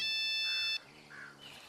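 A phone rings with a bright, electronic multi-tone burst lasting under a second, then cuts off, leaving faint low background noise in a rural village setting.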